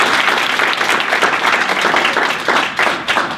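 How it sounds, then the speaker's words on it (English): Steady applause from a crowd at a Jeopardy event, dense clapping that fills the space throughout without letting up. "So give yourselves a round of applause."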